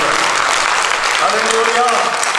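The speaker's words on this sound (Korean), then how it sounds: "이제 박수 한번 치면 하나님께 영광을 드립니다" A church congregation claps during a sermon, a dense steady wash of applause filling the space, with a faint voice rising briefly under the clapping.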